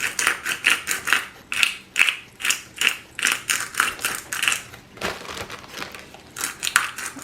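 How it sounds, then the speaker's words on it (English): A pepper mill grinds black pepper in a steady series of close, crunchy ratcheting bursts, repeated in an even rhythm with a brief pause partway through. "I would grind till you get approximately about a tablespoon of ground pepper as well."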